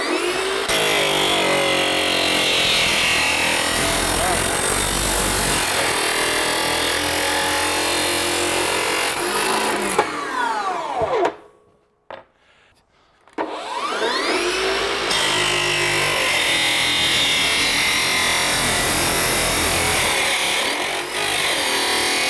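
A loud Makita DLW140Z cordless miter saw whines continuously while cutting wood, drops to near silence briefly, then starts up and cuts again, close and harsh.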